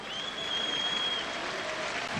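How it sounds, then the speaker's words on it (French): Stadium crowd applauding at a French Ligue 1 football match, Sedan against Monaco, a steady broad wash of clapping from a large distant crowd with a thin high tone above it and no talk. "Applaudissements pour Tony Brogno, le buteur belge."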